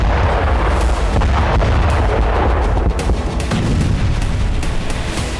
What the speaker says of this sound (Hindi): वेस्ट बैंक के दुलकरम में इजराइल ने एक के बाद एक कई धमाके किए।